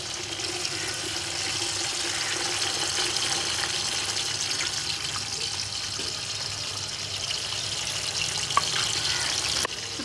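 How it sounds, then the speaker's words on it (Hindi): Onions frying in hot oil for a Pakistani golden pulao, giving a loud, dense, continuous sizzle close by, with a faint clink near the end. "ऑयल यहाँ गर्म हो चुका है, हम इसमें शामिल कर लेते हैं। बिस्मिल्लाहिर्रहमानिर्रहीम। प्याज"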